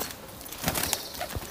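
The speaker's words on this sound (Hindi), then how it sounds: "बहुत ज़बरदस्त कबूतर किसी का पकड़ा पकड़ा तो नहीं गया अभी तक" A pigeon flaps its wings in a few quick bursts, soft fluttering claps close by against a faint background hiss, with no talking.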